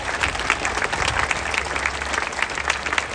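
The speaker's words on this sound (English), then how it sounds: "Give them a round of applause." A crowd at the Spoleto Festival opening in Charleston, South Carolina applauds city cultural affairs staff, close, busy clapping at a steady level throughout.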